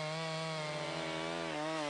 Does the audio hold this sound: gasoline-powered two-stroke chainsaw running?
yes